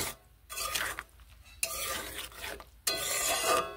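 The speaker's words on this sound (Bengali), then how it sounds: "ভালোভাবে নেড়ে নিচ্ছি, আলুর সঙ্গে মিশিয়ে নিচ্ছি।" Potatoes with ground poppy seed paste stirred in a pan for Bengali aloo posto: three long, rasping scrapes of the spoon across the pan, separated by short quiet gaps, close up with no voices.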